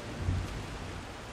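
Rain falls outside in the video game Skyrim as a faint, steady hiss with a soft low rumble near the start, and no one speaks.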